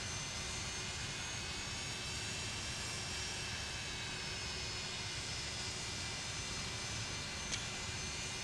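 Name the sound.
airliner engines spooling up for taxi, Microsoft Flight Simulator video game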